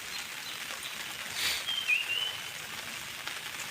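Heavy monsoon rain pours near a creek in the Konkan countryside, a soft, steady hiss of falling drops, fairly faint and unbroken, with a brief thin whistle partway through.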